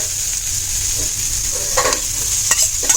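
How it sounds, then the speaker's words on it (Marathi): Minced Jitada fish head meat with masala, turmeric and lemon sautéing in a pan, a constant close sizzle broken by a few short spatula scrapes near the end, with a steady high hiss throughout. "डोक्याचं मांस छान परतून आता त्याला एकजीव करून घ्या"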